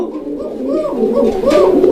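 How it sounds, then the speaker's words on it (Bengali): Raj Golla pigeons, a male and female pair at a market, coo close up in soft, rolling, repeated calls that rise and fall continuously with no talk over them. "কোকার ডাকটাও এখনও আপনারা শুনতে পাচ্ছেন"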